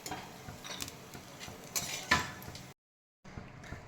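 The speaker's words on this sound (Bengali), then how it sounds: "আমার বাদামগুলো ভাজা হয়ে গেছে, এবার আমি বাদামগুলো তুলে নিচ্ছি।" Fried peanuts are scooped out of a wok with clinks and scrapes of a metal utensil against the pan, a few sharp knocks, then a brief silence before more quiet scraping.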